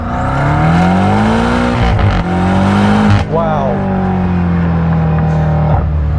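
A BMW F90 M5 Competition engine revs up hard, pitch climbing through a gear, dropping at a shift and climbing again, loud and close, with a brief exclamation.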